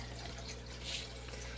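Water pours into an aquarium from its outlet, a continuous trickling wash over a low steady hum, with a slightly stronger splashy swell near the middle and no voices.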